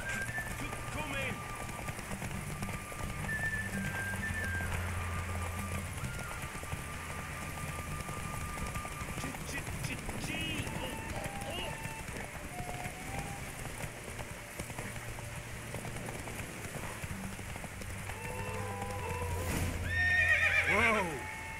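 Horse neighing and galloping hooves in a race in the video game The Witcher III: Wild Hunt, with whinnies over steady clip-clop and game music, building louder toward the finish while voices speak at points.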